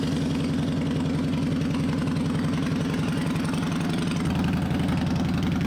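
Harley-Davidson Fatboy motorcycle engine idling in neutral, a loud, steady low-pitched rumble with an even, rapid pulsing beat that holds for the whole stretch, with no voices over it.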